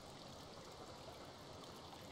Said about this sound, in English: Oh, there's water down there.